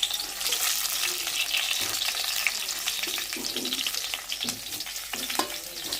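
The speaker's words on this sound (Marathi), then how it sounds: "आता तेल गरम झालेलं आहे आणि ही वांगी आता मी ह्यामध्ये अशी ठेवणार आहे" Stuffed eggplants set into hot oil, giving a continuous close sizzle of frying with scattered crackles and soft pan knocks as the pieces go in.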